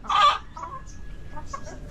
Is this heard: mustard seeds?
no